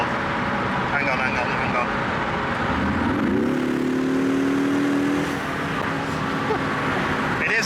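A 4-cylinder car drives steadily at close range, its engine rising in pitch as it accelerates midway, over continuous road and cabin noise, with a voice talking faintly at times.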